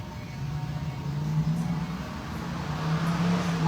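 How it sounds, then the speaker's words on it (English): Road traffic passes outside during a quiet yoga session, a low, steady engine rumble that swells slightly as a vehicle draws nearer. "You can hear the sounds of traffic"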